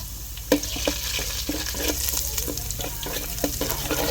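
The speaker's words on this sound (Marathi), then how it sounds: "तेल गरम झालं हे आमचं लाल कोल्हापूर तिखट एक पळीत घालायचं" Red Kolhapuri chili powder fries in hot oil for a crab curry, giving a close, continuous sizzling hiss with small stirring scrapes and clicks throughout.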